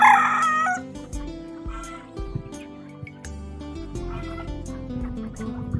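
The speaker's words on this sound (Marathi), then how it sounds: "हे या सर्व कोंबड्या इकडे येताना तुम्हाला दिसतात" Free-range country chickens on a rural poultry farm cluck and squawk loudly and close, with rooster-like crowing and gobbling calls overlapping in a busy, continuous flock chorus.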